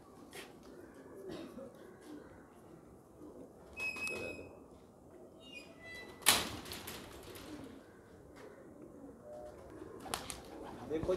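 Salara and Lal Pari pigeons coo softly at low level, with a few faint bird calls, a sharp knock or door-like bang midway, and people talking in the background.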